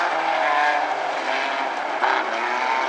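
Race cars in an Outlaw Tuners heat race at Grays Harbor Raceway roar steadily from the green flag, a loud continuous engine drone that swells briefly near the end.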